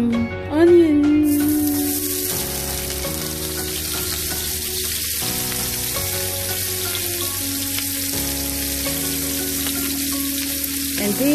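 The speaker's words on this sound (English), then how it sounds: "That oil is nice and hot, so here comes some onions." Onions hitting hot oil and frying, a loud broad sizzle that swells at first and then settles into a steady hiss, with a tonal hum running beneath it.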